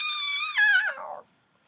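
A human voice imitates a kitten's mew, giving one short, high, wavering cry that rises and then slides down before it cuts off into silence.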